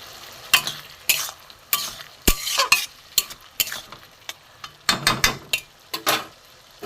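Ground cumin, coriander and grated ginger hit a hot pan for a vegetarian sukto, giving a string of sharp sizzling bursts and scraping stirs at an irregular rhythm, close and fairly loud, with no voices.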